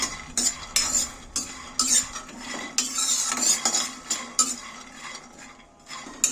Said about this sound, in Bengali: বাদামগুলোকে শুকনো খোলায় ভেজে নিতে হবে